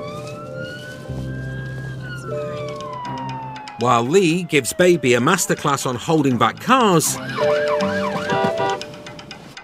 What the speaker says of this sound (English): because I'm just going to put the sirens on to...